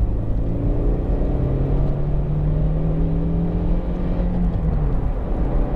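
Interior drone of a Honda CR-Z 1.5 IMA Sport hybrid hatchback taken through a corner, a loud steady engine hum and road rumble with a sustained tone that rises then eases off.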